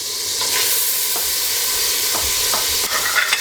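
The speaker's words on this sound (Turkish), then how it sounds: "Güzel soğanımızı kavuralım." Continuous loud sizzling of onions frying in butter in a pan, with occasional soft scraping as they are stirred.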